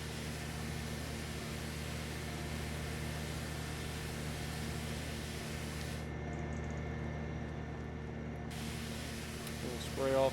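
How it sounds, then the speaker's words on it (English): Pressure washer spraying off outdoor equipment and a trailer at a timber property: a steady, fairly quiet hiss of water spray over a low mechanical hum, running unbroken throughout. "We'll spray off the TARDIS trailer too."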